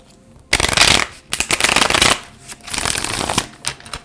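A deck of Cosmic Tarot cards is shuffled close up in several loud riffling bursts separated by short pauses, with no voices.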